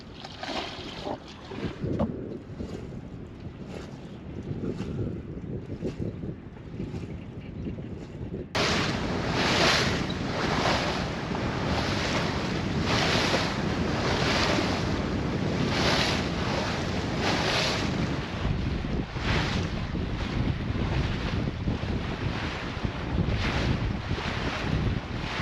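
A sailboat under way off its anchor, with strong wind roaring across the microphone and waves rushing along the hull. The noise is loud and continuous and grows heavier partway through, with no voices.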